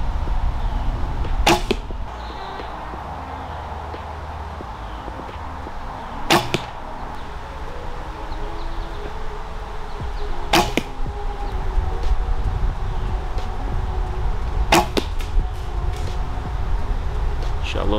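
Four arrows loosed from a traditional bow strike a target at steady intervals, each a sharp, loud thwack standing out against a quiet room hum, with someone talking between shots.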